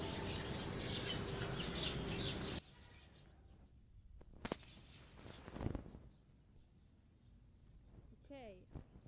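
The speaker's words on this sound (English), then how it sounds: "Those bird chirps." A few brief, bright bird chirps sound faintly after a stretch of louder rushing noise, with small twittering calls spaced apart near the end.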